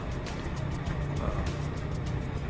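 Continuous road noise of cars driving past, a steady low rumble and tire hiss that swells slightly now and then.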